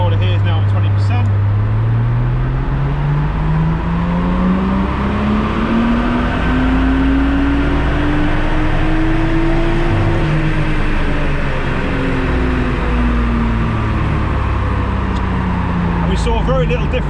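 A tuned, boosted Nissan Skyline engine pulls under load on a dyno, its loud droning note sweeping steadily upward through the run and then easing back down, with someone speaking over the noise.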